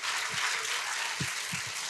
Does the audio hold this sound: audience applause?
yes